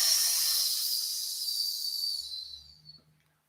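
A long, soft hissing exhale streams out steadily like steam from a kettle, slowly tapering off into quiet.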